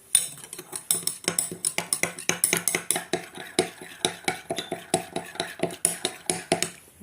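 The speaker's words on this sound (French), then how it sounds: "quand même prendre une cuillère pour mélanger le tout" A spoon clinks rhythmically against a glass while stirring a drink with a dissolving effervescent tablet, with steady close, bright taps repeating for several seconds and no talking.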